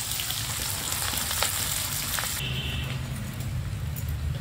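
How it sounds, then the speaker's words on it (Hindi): Steady, dense sizzling of chopped onions frying in a hot pan, a continuous crackling hiss heard up close with no talking. "प्याज को हल्का सा भून लिए हैं"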